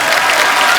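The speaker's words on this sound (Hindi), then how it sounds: "जोरदार तालियां नानी की आंखों के लिए।" Studio audience at a TV comedy show bursts into applause, a dense loud wash of clapping filling the whole brief moment without a break.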